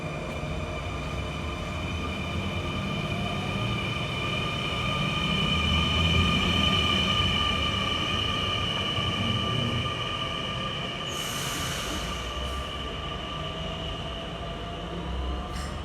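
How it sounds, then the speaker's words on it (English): A Dutch SNG train rolls along as it leaves the station with a steady rumble and sustained metallic tonal whine, swelling slightly midway, with a short hiss burst later. "Once this train leaves the station"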